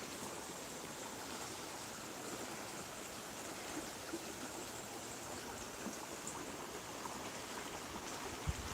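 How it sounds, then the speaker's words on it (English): The Ogmore River rushes powerfully in a steady, dense broadband roar of flowing water, close by and continuous throughout, with no voices. "This is quite a powerful river when it's flowing"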